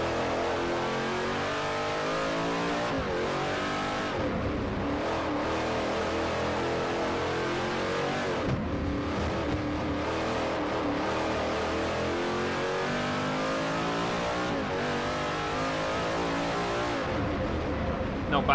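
A V8 Supercars race car engine revs steadily in Forza Motorsport 4, a loud, continuous close-up drone with rising and falling pitch through gear changes, sustained for the whole stretch with no breaks.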